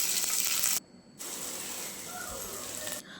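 Onion, green chili and curry leaves sizzle loudly in hot oil while being tempered, a steady close hiss with a brief dip partway through before the frying resumes.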